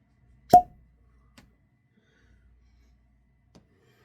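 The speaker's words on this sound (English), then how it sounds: "Do a little fresh pop, cork pop." A single sharp pop of a cork pulled from a Russell's single barrel whiskey bottle rings out once near the start, then near silence with a couple of faint small clicks.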